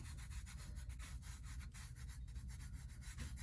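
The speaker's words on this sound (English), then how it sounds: "I'm gonna take my little tool and I'm just gonna rub the glitter flat" Glitter rubbed flat on a tumbler with a small tool, a soft continuous scratchy rubbing in quick repeated strokes, close but faint, with no voices.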